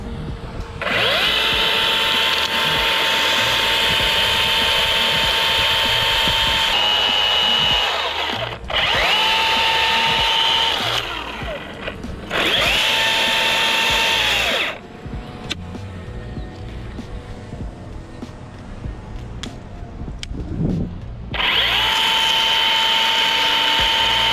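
A chainsaw cuts a notch and back cut into a tree during whole-tree rigging, running loud and close in several sustained bursts broken by short idle pauses and a quieter stretch.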